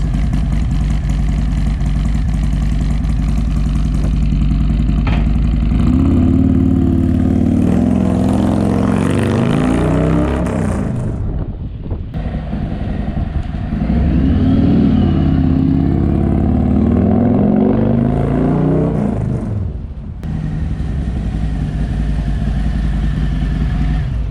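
A Harley-Davidson Low Rider S motorcycle with a stage 2 engine setup rumbles loud and close while riding, its steady engine drone swelling through two long rev-ups before easing back.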